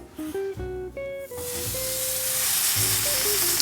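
A gourmet grilled cheese sandwich with ostrich meat sizzles in a pan, a bright hiss that rises and holds steady close by after a few brief tonal sounds at the start.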